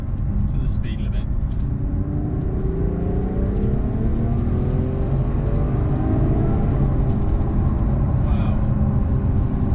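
A Ferrari FF's V12 engine pulls hard in a long acceleration through the gears, its rising whine and deep drone heard from inside the cabin with the window down, while a man briefly exclaims.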